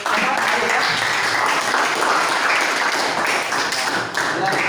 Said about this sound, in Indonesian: tepuk tangan untuk Ayu ya